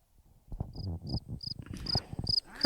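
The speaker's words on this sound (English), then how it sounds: "Crickets." A cricket chirp effect sounds in short, repeated high-pitched pulses, dropped in as a comic silence gag while other sounds thud and rumble underneath.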